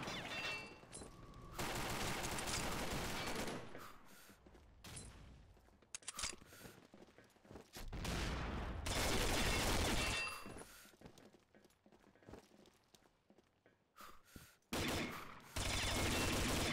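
K7 submachine gun firing in the online shooter Combat Arms: several close, rapid automatic bursts of varying length separated by short pauses and a few single shots.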